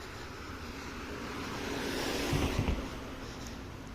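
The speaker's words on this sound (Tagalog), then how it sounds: "Ayan, may sasakyan." A car passes along a quiet street at night, its engine and tire hum rising out of a low background rumble, peaking near the middle and fading away, fairly faint and distant.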